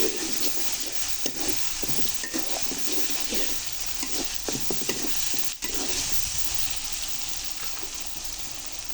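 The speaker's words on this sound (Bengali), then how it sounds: "এবার আগে থেকে একটা ডিম ফাটিয়ে রাখছিলাম, এই ডিমগুলো দিয়ে দিলাম।" Eggs with green chilies fry and are stirred in a spiced mustard curry, a steady close sizzle running throughout with repeated scraping stirs and soft clatters.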